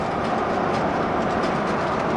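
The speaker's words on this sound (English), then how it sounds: "here's a train coming through." A Burlington Northern Santa Fe freight train passes through the North Dakota Badlands near Medora, a steady, loud, broadband rumble with rail clatter that holds evenly and alone throughout.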